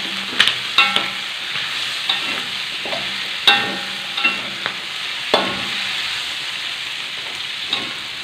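Large red chilies stir-fried in a wok alongside green beans, tempeh and squid, with a steady close sizzle and repeated sharp scrapes and clanks of a spatula against the metal at irregular intervals.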